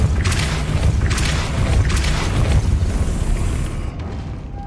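Confringo blasting spell explosions in Hogwarts Legacy, three or four loud booming bursts in quick succession, each with a rushing crackle, fading to a quieter rumble at the end.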